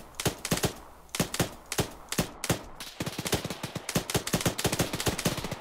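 Gunfire in the Arma 3 co-op mission September Storm: rapid, sharp shots crack out in uneven bursts and quick single volleys, fairly close and loud, running steadily with no talking.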